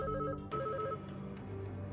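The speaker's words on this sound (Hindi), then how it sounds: "फोन की घंटी" A telephone rings with a steady electronic tone, fairly close and clear, with a brief break partway before the ringing continues.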